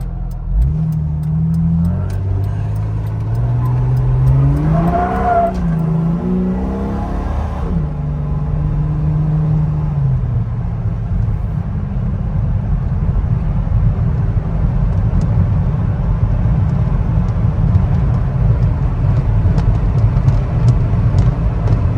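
The engine of a 2004 Jeep Wrangler X hums low and steady while driving, rising in pitch briefly as it accelerates, then settling into a continuous road drone.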